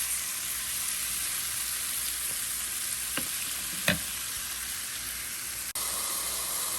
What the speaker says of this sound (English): We've got the celery, the onion, the garlic, and then all of the herbs, and we're just gonna dump it on there.